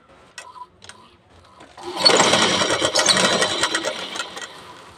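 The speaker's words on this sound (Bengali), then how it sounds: "তো এবার জাস্ট এর উপর থেকে আমরা হুবহু সেলাইটা প্রথমে করে নেব" A sewing machine stitches a bra cut blouse, first a few brief clicks and taps, then a steady rapid mechanical whirring and ticking that starts at about two seconds and runs close and clear to the end.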